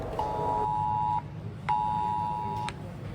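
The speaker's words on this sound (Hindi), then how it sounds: "all of a sudden emergency alert सबके फ़ोन्स" Emergency missile alert tones blaring from mobile phones, two long loud electronic beeps about a second each separated by a short gap, over a steady background hum.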